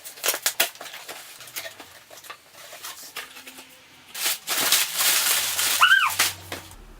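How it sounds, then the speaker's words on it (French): A cardboard box is opened up close, with crinkling, tearing and rustling packaging noises in uneven bursts that grow denser toward the end. "on va déballer ensemble la boîte"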